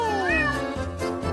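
A cat meows twice, close and clear, the first call longer and rising before a shorter second cry, with no talking.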